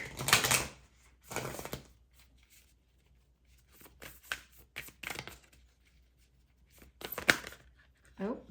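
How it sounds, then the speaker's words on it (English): Tarot cards shuffled on a lap make repeated crisp riffling bursts at uneven intervals, close and moderately quiet, with soft voice sounds between them. "You see me shuffling."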